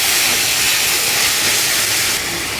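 Onions and tomatoes fry in a pan for a bottle gourd and toor dal kootu with a loud, even, hissing sizzle close by that eases slightly near the end.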